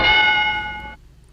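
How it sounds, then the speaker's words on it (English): A game-show bell rings once with a bright metallic ding that holds for about a second, then cuts off abruptly into near silence. "I was a little slow with the bell."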